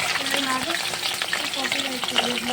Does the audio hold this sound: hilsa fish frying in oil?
yes